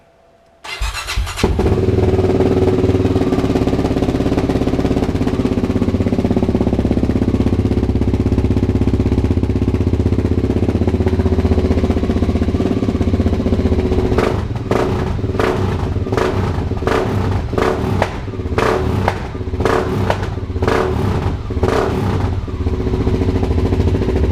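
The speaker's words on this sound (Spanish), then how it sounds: "Y ahora voy a arrancarla, la voy a arrancar para que escuchéis el escape." A Vogue 300 Rally motorcycle is started close by and settles into a loud, steady idle through its exhaust, broken by a series of short sharp blips of the throttle in the latter half.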